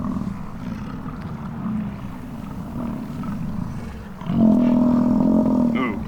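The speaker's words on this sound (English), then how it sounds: "Ooh, that was a good bellow there." A bison bull bellows during the rut in a Yellowstone valley, a deep sustained roaring groan that swells louder near the end over a steady low rumble of background noise, fairly close and with no voices.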